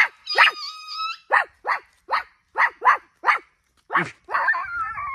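A puppy yelps and whimpers in a quick series of short, high cries, close by, ending in a drawn-out whine.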